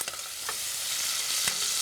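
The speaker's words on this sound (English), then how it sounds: "next in go some onions. Funny, isn't it? As soon as you've got onions frying" Onions sizzling in a pan as the base for a chicken curry, a steady bright hiss of frying with a couple of brief stirring scrapes.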